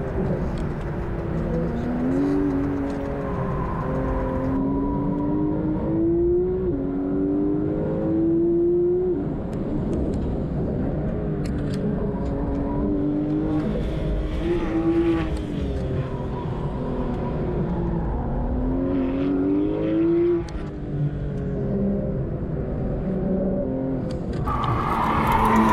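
A Porsche 991.2 GT3 launches hard and accelerates, its engine rising loudly through repeated rising pitch sweeps with short dips at each gear change, close and sustained with no talk over it.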